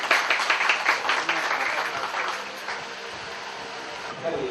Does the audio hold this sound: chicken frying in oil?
no